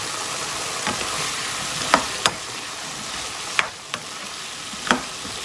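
Pumpkin stir-frying in a pan: a steady hiss of sizzling oil with a handful of sharp spatula knocks and scrapes spaced a second or so apart, close-up with no talking.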